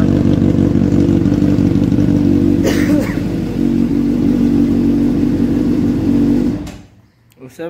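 A Honda CBR600RR motorcycle, started cold in Nepal, idles with a steady, loud, close low rumble that runs unbroken for several seconds before the engine cuts out and near-silence follows, with a brief clatter at the very end.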